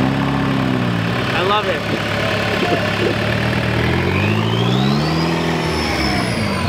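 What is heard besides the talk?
turbo engine revving at a VW car show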